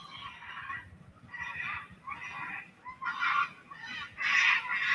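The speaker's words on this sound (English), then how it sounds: "about 60 cockatoos at 6 a.m." Dozens of cockatoos at dawn screech together in harsh, loud bursts that rise and fall in repeated waves, the raucous calling filling the whole stretch without any talk.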